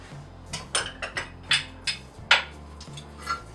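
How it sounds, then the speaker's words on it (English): A baking stone or baking sheet handled in a home kitchen while making peanut butter cookies, giving a series of irregular clinks and knocks, close and fairly sharp, with no talking. "you're going to grab your stone or your baking sheet"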